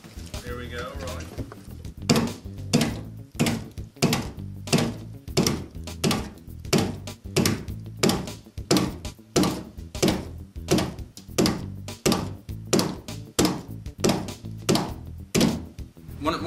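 Foley running footsteps for a Templar character in the game Hellgate London, recorded on a studio surface: steady, evenly spaced heavy thuds about three per second, close and fairly loud, with a brief soft lead-in before the rhythm settles.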